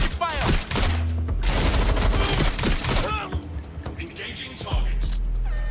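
Video game gunfire from Watch Dogs Legion: a dense burst of rapid shots and impacts through the first three seconds, then a quieter stretch of scattered reports, with in-game voices shouting over the firefight.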